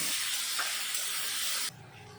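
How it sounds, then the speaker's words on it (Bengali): Chopped garlic, ginger and green chilli fry in hot white oil for chicken spring rolls, a loud continuous hiss and sizzle that drops abruptly to a softer level near the end. "তেলের ভিতরে দিয়ে দিলাম রসুন কুচি, আদা কুচি আর কাঁচা লঙ্কা কুচি। একটু সময় তেলে আমি ভেজে নেব।"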